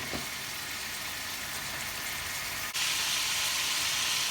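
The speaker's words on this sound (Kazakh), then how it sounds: "Етімізді салдық, енді жақсылап қуырып аламыз." Meat for lagman sizzles and fries steadily in hot oil in a kazan cauldron, a loud continuous crackling hiss that jumps louder near the middle as it is stirred, with no talking.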